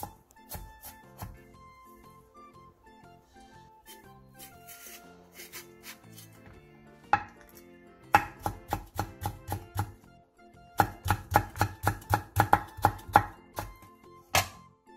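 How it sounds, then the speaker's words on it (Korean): A knife finely chops green onion and Korean red chili on a cutting board: light, scattered taps at first, then fast rhythmic bursts of crisp chops close by, without talking. "대파 3분의 1개를 쫑쫑 썰고 청양 홍고추 2분의 1개도 길게 반으로 갈라 쫑쫑 썰어주세요"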